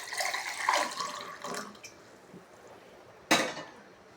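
Lukewarm water is poured into a cup or glass for a ginger, garlic, lemon and apple vinegar drink, a soft close trickle followed later by a brief sharp clink of vessel contact.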